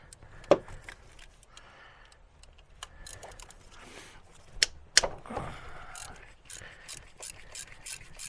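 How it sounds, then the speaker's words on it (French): Ratchet wrench undoing starter motor screws on a 2.0 HDI Peugeot 307 SW, with bursts of rapid pawl clicking and metallic knocks in a quiet workshop. "je démonte les 3 vis"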